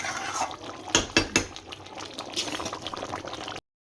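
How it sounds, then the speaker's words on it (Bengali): Aloo dum with green peas boils in a pan, giving soft bubbling and popping with a few sharper clinks of utensils partway through, fairly close and moderate in level before cutting off abruptly. "টকপক টকপক করে আলুর দম ফুটছে মটরশুঁটি দিয়ে"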